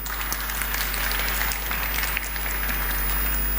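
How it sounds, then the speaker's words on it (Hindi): An audience at a hall gathering applauds in a sustained, even wash of many hands clapping, with a steady low hum underneath. "ताली ठीक से बजा सकते हैं।"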